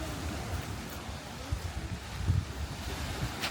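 Sea waves washing onto the shore in Cebu, a steady low surf roar mixed with gusty wind buffeting the microphone, continuous and close with no talk.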